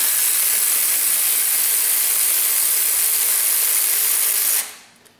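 A ratchet loosening a 12 mm bolt on the alternator tensioner of a Toyota Camry gives a steady, dense metallic clicking at close range for several seconds, then stops abruptly with nobody talking.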